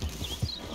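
Horse hooves clopping in Red Dead Redemption 2, a brief burst of low, rhythmic thuds from a trotting horse, fairly close and steady with no talk.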